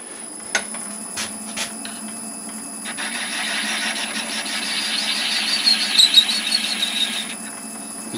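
A Corian pendant turns on a lathe against a pointed chisel, giving a steady high-pitched hum with a few sharp clicks early on, then a rising scraping hiss of cutting that builds and fades.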